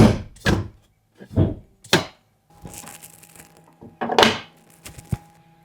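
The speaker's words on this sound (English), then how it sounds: "Now we need to pop the hood." Ford Bronco Sport hood being popped open: a series of close, hollow thunks and clacks from the release and latch, separated by short pauses, with a faint hum under one stretch.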